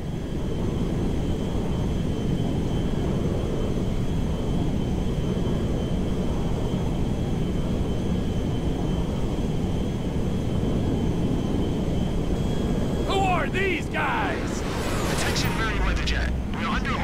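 A cargo jet flies in GTA 5 with a loud, steady low-pitched engine roar that lasts throughout, and sharp chirping bursts break in near the end.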